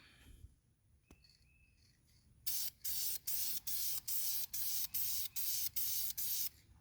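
A spray can lays a silver top coat onto a Toyota 2AZ-FE 2.4 engine block, heard as about nine loud, close hissing bursts in steady rhythm after a few quiet seconds with faint clicks.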